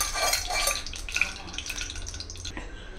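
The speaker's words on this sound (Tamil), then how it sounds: "கடாய் சூடானதும் ஃபர்ஸ்ட் இதில் கொஞ்சம் நல்லெண்ணெய் சேர்த்து" Sesame oil going into a heated kadai for a Tamil kuzhambu, giving a close, steady wet sizzle with small dripping and splattering ticks throughout, no voices.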